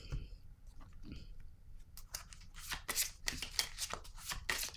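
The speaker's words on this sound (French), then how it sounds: "Je vais piger une autre carte." Tarot cards being shuffled and drawn, with a few soft slides followed by a dense run of crisp riffling flutters close by, moderately quiet, and no talk over it.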